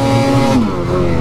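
A Ski-Doo 146 snowmobile engine revving loudly up close, a rising buzzing drone that swells, dips briefly, then climbs again over about a second.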